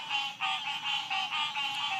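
Many frogs call together in a dense, steady chorus of rhythmic croaks, pulsing in waves at moderate distance, with no voices.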